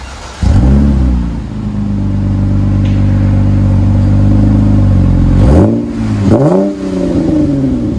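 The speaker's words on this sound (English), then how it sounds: "We'll let you hear it on the inside." A RAM 3.6L V6 running straight pipes, heard from inside the cabin: the engine revs up to a loud, sustained drone, then dips and climbs twice more in quick throttle blips.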